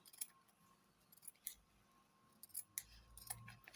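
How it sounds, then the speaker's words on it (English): Sharp scissors trim the excess fabric from a sewn Nigerian Zara cap, giving several quick, close snips spread irregularly over a quiet background. "I'm going to trim now. Just all these excesses."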